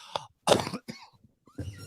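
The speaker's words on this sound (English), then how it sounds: "I got to shake this cough" A few short, close coughs and throat-clearing sounds in quick succession, with brief silences between them.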